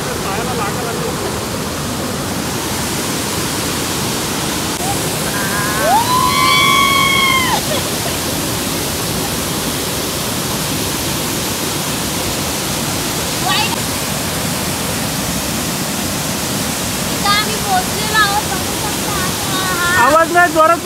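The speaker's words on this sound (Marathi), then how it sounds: "वॉटरफॉल आहे, भरपूर आवाज येतो" A hidden waterfall at Nijampur roars steadily and loudly throughout, a thick wash of rushing water, with faint voices and a brief whistle-like call rising above it now and then.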